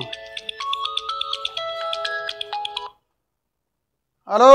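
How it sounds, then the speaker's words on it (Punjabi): A mobile phone's incoming-call ringtone plays a bright electronic melody of short pulsing tones for about three seconds. Silence follows, then a voice begins. "ਹੁਣ ਕਿਨੇ ਕਰ ਲਿਆ ਫੋਨ"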